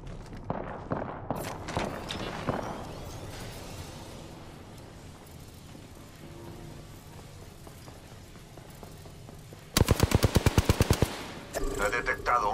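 Rapid automatic gunfire in the video game Apex Legends bursts loudly in a tight rhythmic string, following scattered shots and footsteps amid ambient battle noise.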